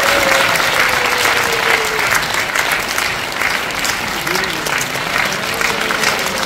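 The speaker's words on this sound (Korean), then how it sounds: "우리 큰 박수 부탁드립니다." A crowd claps loudly at an inauguration ceremony for a new chapter president of the Bareunsalgi movement's Bucheon council. The applause is sustained, with a voice faintly audible over it.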